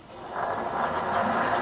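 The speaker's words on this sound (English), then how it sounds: "I'm drilling them dry." A continuous high-pitched whine with a steady hissing rush of a drill bit cutting dry into metal sawmill parts, holding level for a couple of seconds.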